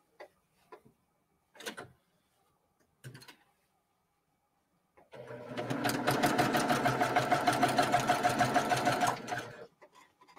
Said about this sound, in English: So now what I'm going to do is I'm just going to sew from corner to corner.